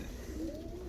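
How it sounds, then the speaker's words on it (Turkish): Soft, low cooing from ornamental birds, a brief murmuring call with a gentle rising tone, steady and fairly quiet. "Çok sağlıklı, çok güzel kuşlar aldık."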